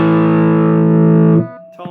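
Electric guitar played through a Sonicake pedal with the drive at halfway, a loud sustained distorted chord ringing for over a second before being muted, followed by a brief scratchy pick noise.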